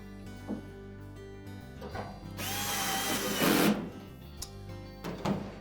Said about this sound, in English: And then we'll reinstall the 2 retaining screws at the back.